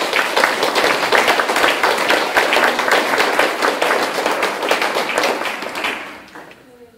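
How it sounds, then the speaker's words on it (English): An audience at a community energy forum applauds panelists, a dense, steady wash of many hands clapping close and loud for about six seconds before tapering off quickly to quiet. "Please join me in giving a round of applause to our panelists."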